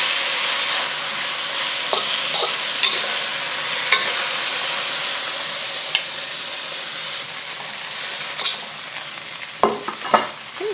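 Beef stir-frying in an oiled pan for a Chinese dish gives a steady, close sizzle, punctuated by scattered clicks and scrapes of a utensil against the metal toward the end.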